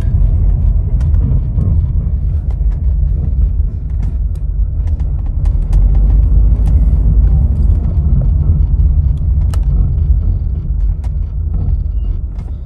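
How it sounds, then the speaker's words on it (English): A car with a rear left wheel speed fault and brake and ABS/ESP warnings drives along with a loud, continuous low road rumble, and faint intermittent ticks and scrapes recur from the wheel area. "It's almost like the ABS pumping."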